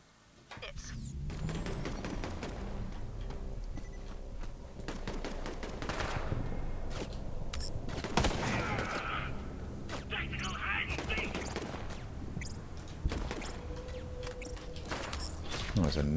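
Maliwan shotgun fired in the Borderlands video game, in rapid repeated blasts and bursts of gunfire mixed with other game noises, with a voice talking over much of the action.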